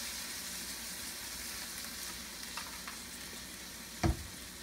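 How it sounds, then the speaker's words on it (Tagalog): Soy sauce and vinegar go into a hot pan with a constant soft sizzle, followed by a few small clinks and one sharp knock near the end, close and quiet, with no voices. "Ngayon ilagay ko na tong yung soy sauce. Yung toyo. Tapos lagay ko rin yung yung suka."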